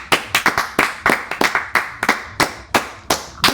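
A few people clap in a loose, uneven rhythm, a dozen or so sharp hand slaps close by, scattered and unsynchronized, with no talking over them.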